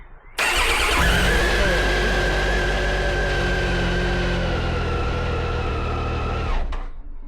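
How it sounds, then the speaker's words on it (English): Triumph Tiger motorcycle engine cranking over on a newly fitted starter motor, then catching and running loud and close at a steady idle for several seconds before shutting off abruptly. "this is the first start up after fitting the new starter motor"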